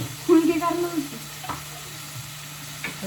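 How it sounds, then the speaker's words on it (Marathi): Onion frying in a pan, a soft steady sizzle with a few sharp utensil clicks and a short burst of voice-like sound near the start. "अजून आपला कांदा अजून फ्राय होते, आवाज येतच असून"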